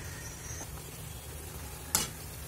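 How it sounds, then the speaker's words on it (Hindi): Batata vada potato fritters deep-frying in oil over a medium-low flame, a faint steady sizzle with one brief sharp tick near the end. "मीडियम से स्लो फ्लेम पे हम इसको फ्राई करेंगे।"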